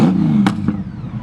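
A 2007 Honda Goldwing GL1800 motorcycle trike engine rumbles low and steady through its exhaust, with two quick throttle blips that briefly flare louder before settling back to idle.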